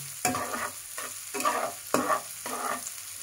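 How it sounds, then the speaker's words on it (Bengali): Chopped onions sizzle in hot oil in a pan while a spoon stirs them in regular scraping strokes, about five rhythmic passes, close and fairly quiet with no talking. "পেঁয়াজটা ভাজা হয়ে যাক ভালো মতো।"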